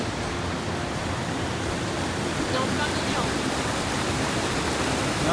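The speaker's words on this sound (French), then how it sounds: "On voit une belle petite cascade qui fait tout le long." A small waterfall in a mountain cirque pours steadily, a broad, constant rushing wash heard from a distance with no clear breaks.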